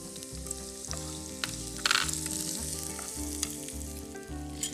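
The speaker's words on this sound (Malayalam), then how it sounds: "നീളത്തിൽ അരിഞ്ഞു വെച്ചിരിക്കുന്ന ഒരു കപ്പ് സവാള ഞാൻ ഇടാണ്." Long-sliced onions, about a cup, fry in hot oil in a pan, giving a continuous close sizzle with occasional louder spits and bursts and no voices.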